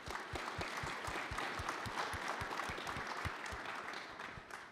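Conference audience applauding for a defense company executive at a session, a steady dense wash of clapping that holds for several seconds then begins to fade.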